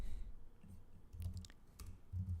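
Fingers type on a computer keyboard, producing a handful of light, irregular key clicks in short bursts, quiet and close, with no one speaking.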